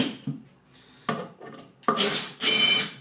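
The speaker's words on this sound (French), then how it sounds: "on vient terminer la course du vissage tranquillement" A power screwdriver drives screws into a panel of an Easy Jardin 500 worm composter, heard as three short whirring bursts, the last two longer and louder, separated by quiet pauses.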